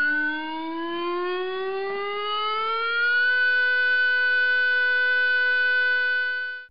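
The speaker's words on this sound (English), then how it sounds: "siren's alert warning will be sounded" A loud civil defence alert siren at Bristol Port wails steadily, its pitch climbing slowly over the first few seconds and then holding a sustained, even tone.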